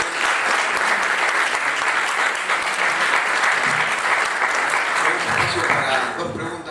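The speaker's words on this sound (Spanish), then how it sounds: "Le damos un aplauso." An audience claps after a talk on computer crimes, a dense sustained applause held at a steady level for several seconds, with a voice speaking briefly near the end.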